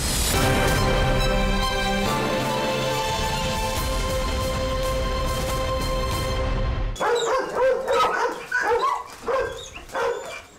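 Service dogs at a kennel compound of a Rosgvardia special unit bark loudly and excitedly, a dense continuous chorus of many close barks and yips that thins into separate bursts toward the end.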